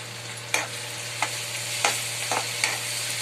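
Ginger garlic paste frying with onion in a pan for an egg curry, a steady sizzle broken by five sharp spoon scrapes spaced about half a second apart, close and with no voices.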